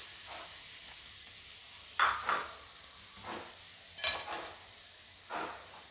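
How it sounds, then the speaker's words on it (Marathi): Grated carrot sautéing in ghee, a low continuous sizzle broken by a few louder scraping stirs at irregular intervals, close and without talk. "आता याच तुपामध्ये मी हे गाजराचा कीस घालून घेते"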